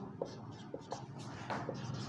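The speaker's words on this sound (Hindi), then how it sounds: "तो लिखेंगे हम" Writing on a board during a physics class, soft scratching strokes in short irregular bursts, faint and close.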